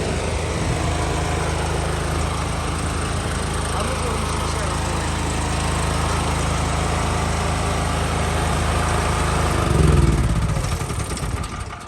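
A gas/petrol home generator runs steadily nearby, a continuous buzzing engine hum with a brief surge near the end, and faint voices talking over it.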